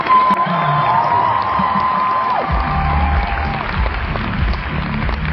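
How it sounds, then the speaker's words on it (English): A large convention audience at a cosplay competition cheers and applauds loudly and steadily, with whoops and shouts rising over sustained clapping, a few sustained tones running through the crowd noise. "Everyone, give one more cheer for Rowan."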